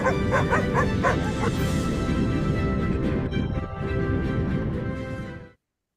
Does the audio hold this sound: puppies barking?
yes